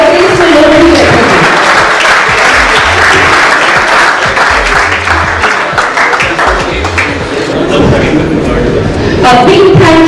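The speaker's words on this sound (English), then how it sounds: "तालियां बजेगी तो ये गुमान होगा कि ऑडियंस में लोग भी बैठेंगे।" A conference audience at an inaugural session in Jaipur applauds, dense sustained clapping from a crowd filling the hall, loud and continuous throughout with voices in the background.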